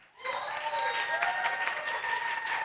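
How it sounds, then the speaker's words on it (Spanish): Congregation applauding during a Pentecostal church sermon, quick clapping that starts abruptly and continues moderately loud, with sustained tonal sound, likely music or voices, running underneath. "Dense un aplauso nuevamente a ustedes mismas."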